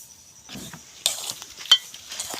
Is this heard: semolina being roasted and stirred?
yes